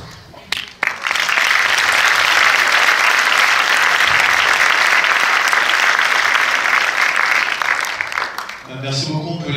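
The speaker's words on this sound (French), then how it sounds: "on peut les applaudir" A large audience claps loudly and continuously at a Paris film premiere of Jusqu'à la garde, a dense sustained wave of applause that fades near the end as a voice begins speaking.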